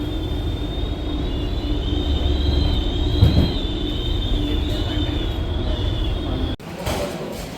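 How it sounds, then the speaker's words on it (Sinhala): A metro train in a Rome station gives a steady rumble with a high wheel squeal that runs for several seconds, then cuts off abruptly before a quieter tail. "මෙට්‍රෝ ස්ටේෂන් එක මේක"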